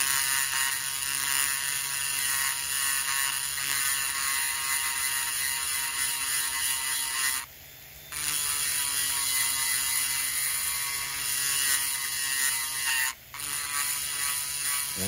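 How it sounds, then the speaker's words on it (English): A rotary tool fitted with a small double-cut ball burr grinds on a chainsaw piston, a steady high-pitched whirring buzz running close and continuous, broken by two brief pauses where the tool eases off. "I'm going to use that little double cut ball here."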